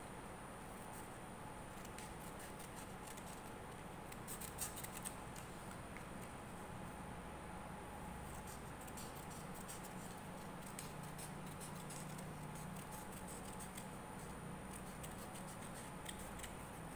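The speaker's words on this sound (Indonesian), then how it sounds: "Lalu yang untuk skala utamanya juga digunting," Scissors cutting paper to make a paper vernier caliper's main scale, with soft, quick snipping and rustling over a quiet steady background hum, close by with no speech.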